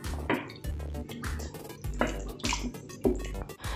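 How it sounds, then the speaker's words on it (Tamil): Water from a mixer jar is poured into a simmering dum aloo gravy in a pan, producing splashy gurgling pours in several bursts, with clinking of the jar against the vessel. "மிக்சியில் கொஞ்சம் தண்ணி ஊற்றி அதை நான் இதில் ஊற்றிடுறேன்"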